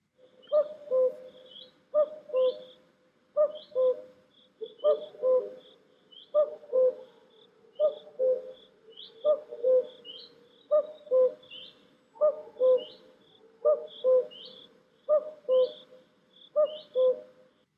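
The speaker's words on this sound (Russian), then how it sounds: "Послушай аудиозапись и сосчитай, сколько раз прокуковала кукушка." Cuckoo call repeated about thirteen times in a steady rhythm, each two-note cuckoo clear and fairly close, with faint higher bird chirps in the background and no talking.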